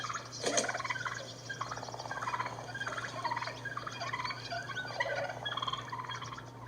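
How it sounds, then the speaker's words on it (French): Male wild turkeys fighting and purring aggressively, a continuous rough churring with overlapping rolling calls and a sharp note near the start, moderately loud and steady throughout. "les mâles qui se battent ronronnent agressivement"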